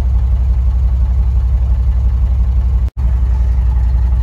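A diesel truck engine with a fuel injection pump fault idles steadily at close range, a deep continuous low rumble with an even, unchanging rhythm and one very brief dropout.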